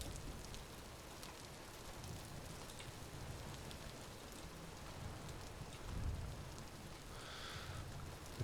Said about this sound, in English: It definitely has been a very rainy playthrough so far.